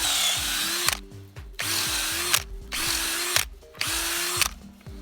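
Power drill boring a tap hole into a maple tree in Ontario, Canada, close and loud, its motor whining up and down in three bursts separated by short pauses.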